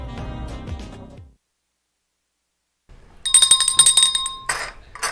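Doorbell ringing, a bright multi-tone chime sounding loud and close after a short silence, with a second burst of ringing near the end.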